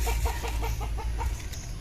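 Native chickens on a small farm giving a quick run of soft rhythmic clucks, close and moderate, over a steady low background hum.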